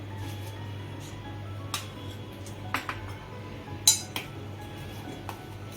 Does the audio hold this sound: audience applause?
no